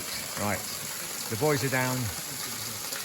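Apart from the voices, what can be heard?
Maspie Den waterfall rushing water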